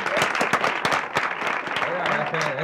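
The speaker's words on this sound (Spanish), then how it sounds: "¡Aplausos!" Studio audience applause for a Cuban comedy show, dense and steady throughout, mixed with a busy crowd roar and what sounds like voices mingling in the noise.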